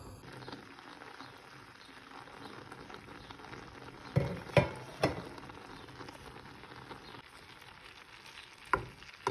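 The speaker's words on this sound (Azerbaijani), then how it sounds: "Sonra yağını əlavə eləyib, duz, istiot, azca sarı kök də vururam mən. Belə bu formada qızardacağam." Food fries in oil in a pan with a steady soft sizzle, punctuated by a few sharp louder crackles and pops, quiet and close with no talking.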